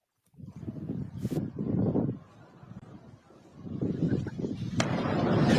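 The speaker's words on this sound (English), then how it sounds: "Big explosion there." Heavy low rumbling blasts from an explosion in bodycam footage, rolling in broad bursts with a brief sharp crack partway through, then building into a sustained loud roar toward the end.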